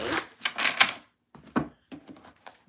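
Tarot cards being shuffled by hand in quick, papery bursts of riffling and sliding, close and fairly loud, with a brief pause midway before shorter shuffles resume.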